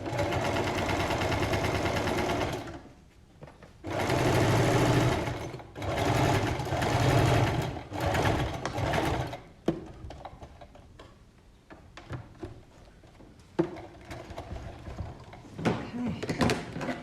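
A sewing machine runs a flat stitch along a side seam pocket in loud, steady rattling bursts, stopping and restarting several times before giving way to quieter handling noises and small clicks.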